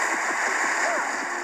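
A magical cartoon water hand splashes and sloshes in a quick burst of watery splatter, fairly loud and continuous, with faint gurgling beneath.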